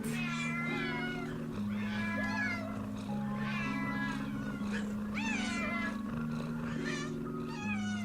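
A cat meows repeatedly, a run of drawn-out, wavering cries that rise and fall, heard over a steady background of music, clear and close.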